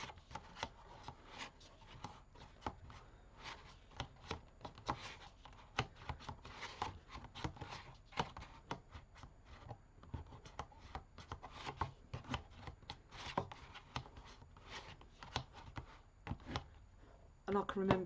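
A bone folder pushes and scrapes card up around a crystal container, making a steady close-up rustle of dense, quick rubbing and crinkling strokes, with talk underneath.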